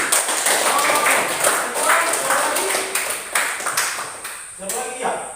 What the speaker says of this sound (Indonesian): Ya, tepuk tangan dulu Rizky